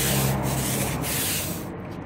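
A stiff brush scrubs a driveway to lift black fungus stains with a household cleaner, making a continuous, close, rough rubbing and scraping sound that eases off slightly at the end.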